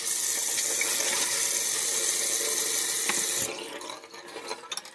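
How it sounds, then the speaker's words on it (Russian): Cold water gushes steadily from a kitchen tap into a colander while pasta drains, a loud, constant splashing stream that cuts off near the end, leaving light drips and clatter. "Можно включить холодную воду,"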